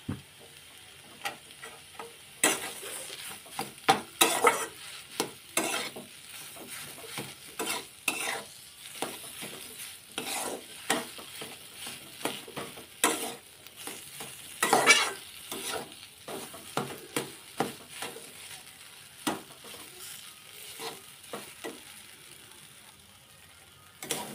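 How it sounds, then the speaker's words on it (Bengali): Filling fries in a pan with a soft sizzle, punctuated by repeated scraping and stirring sounds at an irregular pace, close and fairly quiet. "ভালোভাবে পুরটাকে ভেজে নিয়েছি"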